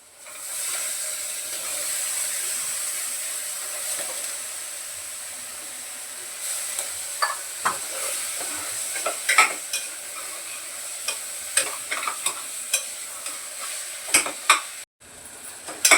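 Potatoes and chickpeas sautéing in a pan, a steady soft sizzle with a spatula scraping and stirring in irregular bursts of clicks, close by and with no talking.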